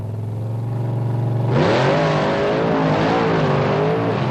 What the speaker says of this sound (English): Seasock, you can see the truck bouncing up and down a little bit.